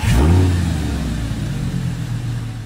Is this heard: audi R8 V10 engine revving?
yes